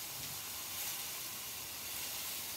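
A steak rests in a hot pan, giving off a faint, continuous hissing sizzle that stays soft and even for a couple of seconds.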